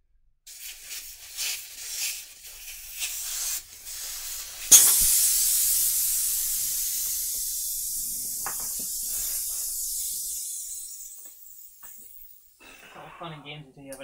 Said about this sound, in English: have an airbrush hose shoot off at 20 PSI